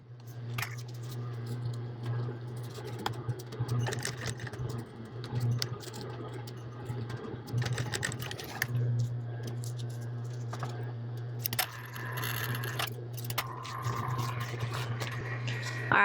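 A sewing machine stitches an apron's bow knot, giving a steady low motor hum with light clicking and ticking over it throughout.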